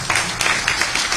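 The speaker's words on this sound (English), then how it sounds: "You give yourself a big round of applause." A brief burst of audience applause at the Huntington Beach State of the City 2023 event, many hands clapping loudly and close in a dense, roomy wash.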